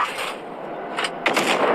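Cannon fire from the FV4005 tank destroyer in the game World of Tanks Blitz comes in sharp, booming bursts over a continuous battle rumble, with one shot near the middle and a louder one toward the end.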